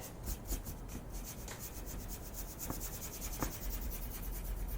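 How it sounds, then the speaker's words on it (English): Dry paint brush rubbing paint onto an MDF-covered mason jar for an ombre blend, giving steady soft scratchy brushing strokes close up with a few faint taps, no voices. "it's a very dry brush right now, and that's when you get some really good blending going on"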